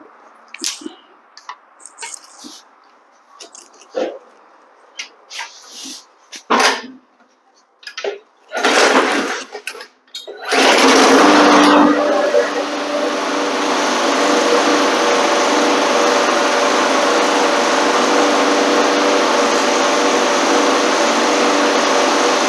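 Husqvarna small engine with a carburetor problem, heard as several short rope pulls and sputters that catch and settle into a steady, loud, high-pitched idle running alone.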